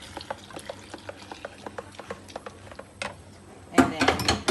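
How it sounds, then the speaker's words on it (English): Hot cream with sugar being stirred into gelatin for panna cotta, giving a steady run of light spoon taps and scrapes against the pan, growing into louder clinking and splashing near the end. "And then we'll stir in our hot cream with sugar"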